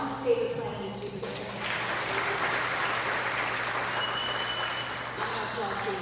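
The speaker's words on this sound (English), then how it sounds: "I'm going to applaud too." An audience at a classical concert of Holst's The Planets claps in a sustained burst of applause that swells and holds steady, with a voice speaking briefly at the start and end.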